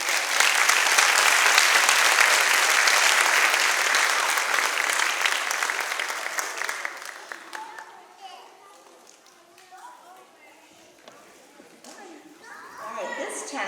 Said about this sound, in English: And if you would give her a round of applause.